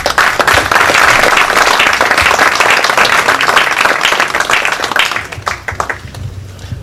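Loud, sustained applause from an audience at an engineers' award ceremony, dense clapping that holds steady for several seconds before thinning out and fading near the end.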